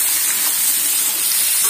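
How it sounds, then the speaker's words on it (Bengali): Potatoes with onion and salt fry in a pan while being stirred, a steady loud sizzle that fills the short stretch without letup, close and continuous. "আলু দিয়ে সাথে স্বাদ অনুযায়ী নুন দিয়ে আলুগুলো একটু নেড়ে ছেড়ে ভেজে নেব"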